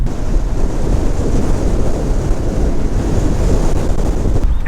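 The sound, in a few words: wind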